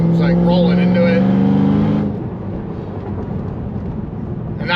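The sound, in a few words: 1200HP Stage 5 Cadillac CT5-V Blackwing driving in 6th gear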